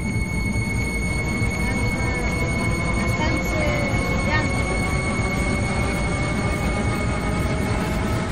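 A Minecraft metro train on the Moscow metro rumbles steadily, with faint high squeals and tonal whines from the wheels throughout; no speech stands out.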